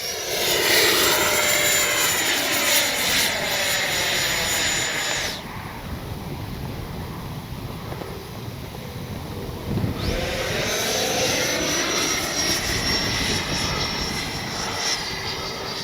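An FMS 70mm F-18 V2 electric RC ducted-fan jet makes a loud, high whine on a pass, dips briefly to a quieter rush, then surges back as it flies close again.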